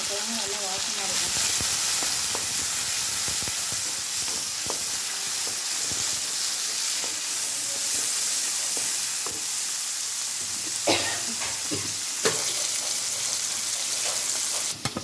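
Onion, tomato and green chili sizzle steadily in a hot pan for a fish curry, a continuous frying hiss with occasional sharper crackles and stirring clatters, close and constant throughout.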